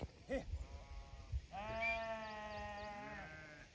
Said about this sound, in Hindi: दोस्तों पानी के आसपास भेड़ बकरियां पहुंच चुकी हैं, और साथ में कालू भाई।